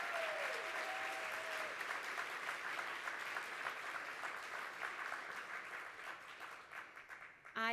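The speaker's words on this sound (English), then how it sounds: "Can we please give them another round of applause?" Sustained applause from a conference audience fills the room, dense and steady throughout before tapering slightly near the end, with a brief vocal sound at the very close.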